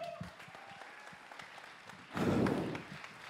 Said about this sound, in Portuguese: Uma salva de palmas pro nosso garçom!